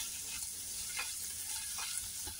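Potatoes frying with turmeric and red chili are stirred in a pan, a steady low sizzle with faint scraping strokes, close and quiet, with no voices.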